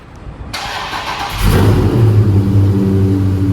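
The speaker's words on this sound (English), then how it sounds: "Obviously, we're going to get a great cold start because it's been like 10 days." A Dodge Challenger Scat Pack cold-starts up close: a starter whir, then the engine catches with a loud rising roar and settles into a deep, steady rumbling idle.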